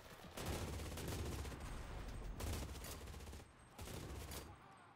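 Sustained bursts of German MG42 machine gun fire in the World War II shooter Enlisted, a dense, loud ripping roar broken by two short pauses, with no talk over it.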